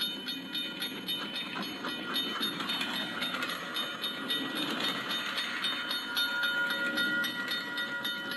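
A steam locomotive train rolls past a railway crossing with a steady rumbling clatter of wheels on track, moderately loud and continuous, with no voices.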